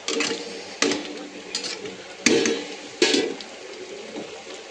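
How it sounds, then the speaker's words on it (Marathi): Paneer masala gravy roasting in oil and stirred in a pan, heard as several distinct scraping and clattering strokes at irregular intervals over a soft sizzle, close by and without speech. "छानपैकी मसाले तेल सुटेपर्यंत मस्त भाजून, मसाला चांगला भाजून घ्यायचा"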